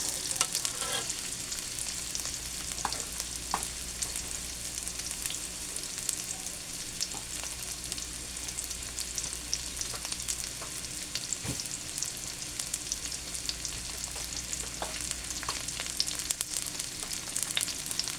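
Onions fry in a pan for a ginataang gulay dish, a dense, continuous close sizzle with occasional faint clicks of a ladle.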